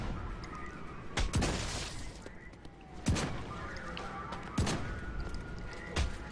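Saints Row 4 gunfire: four sharp, loud shots spaced about 1.5 to 2 seconds apart over a busy game background with faint crackling and a sliding whine.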